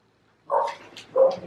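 A dog gives two short, close barks about half a second apart after a moment of silence.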